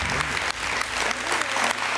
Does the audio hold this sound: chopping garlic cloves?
no